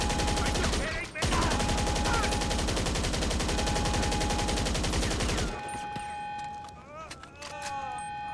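A weapon emptying a full magazine in GTA 5 Online fires a fast, continuous burst of loud shots for about five seconds with a brief break near the start. It then cuts off into quieter ambience as voices talk.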